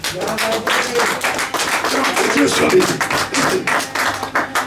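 A church congregation claps together through a worship service, a dense, steady patter of many hands that stays loud for the whole stretch with voices mingled underneath.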